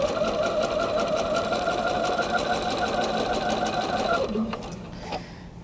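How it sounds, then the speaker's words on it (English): Quilt pieces for a Bear Paw block feed through a sewing machine. Its close, steady, rapid needle clatter runs evenly for about four seconds, then slows and stops. "I should be sewing on my anchor cloth"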